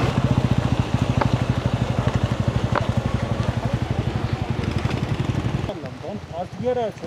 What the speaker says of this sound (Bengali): তোমার ইঞ্জিন সাউন্ড করে, ওটাই ইঞ্জিন ব্রেকিং